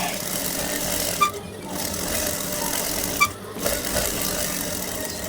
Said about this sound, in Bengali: আমি উপর দিয়ে একটি চাপ সেলাই দিয়ে দিচ্ছি